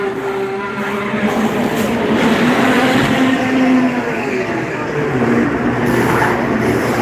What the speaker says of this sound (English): Another person pulling into the pits to change their tires.